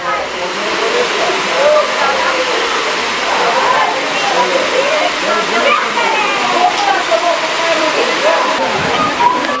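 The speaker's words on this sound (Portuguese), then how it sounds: "só curtindo a cachoeira" A waterfall in Capitólio, Brazil, roars in a loud, steady rush close by, while voices talk over the crashing water.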